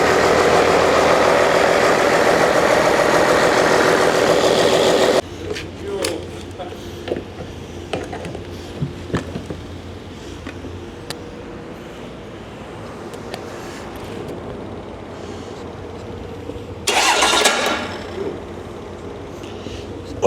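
A 12V Cummins diesel, running again for the first time in years and in poor condition, roars loud and steady for about five seconds, then settles to a quieter rough idle with knocks and a brief surge of revving.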